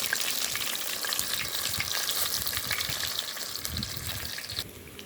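Seasoned oil sizzles and fries hot in a pot, ready for fish, a dense steady crackling hiss that runs without a break, close and fairly loud, and drops away slightly near the end.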